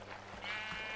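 A sheep in the video game The Black Desert bleats briefly, a thin, faint call over steady game background sound lasting about a second.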